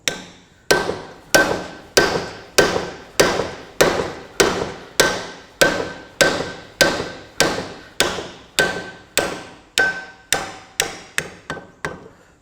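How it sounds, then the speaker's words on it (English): A hammer strikes a screwdriver to drive out a worn king pin bush on a Massey Ferguson 65 front hub, about eighteen sharp metallic blows in a steady rhythm, close and loud. "But if I get my hammer here,"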